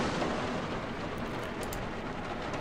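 Steady, dense rain hiss in a U-boat submarine video game, a continuous broadband wash with no talk and no clear thunder hits.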